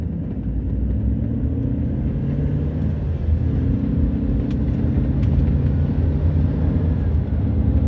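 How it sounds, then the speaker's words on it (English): An airplane taking off from a nearby airport passes overhead as a low, continuous, broadband roar that stays fairly steady throughout. "I just watched the plane take off from the airport right over my head."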